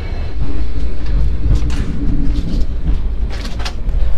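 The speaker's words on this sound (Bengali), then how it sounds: "ট্রেন এখন দারুণ ঝড়ের গতিতে ছুটছে" An express train rumbles steadily with a heavy low roar, rattling and clattering throughout at high speed, loud and close as if heard from inside a carriage.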